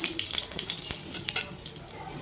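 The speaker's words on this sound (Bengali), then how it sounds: "আলু ভাজা হয়ে গেছে ওই কড়াইতেই আমরা তেল দিলাম" Oil goes into a kadai that has just been used to fry potatoes, producing a close, continuous hissing sizzle with small crackling bursts and no voices.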